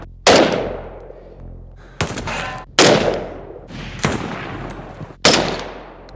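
WWII rifle reports from an SVT-40, Gewehr 43 and M1 Garand, five loud sharp shots fired one after another about a second apart, each followed by a ringing outdoor echo tail.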